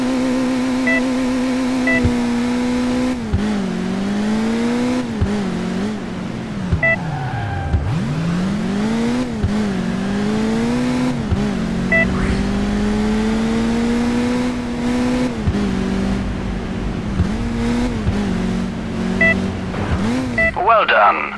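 A car in the Crash Time II: Burning Wheels racing game revs and accelerates with a loud, continuous engine whine that rises and falls across repeated runs, under a voice.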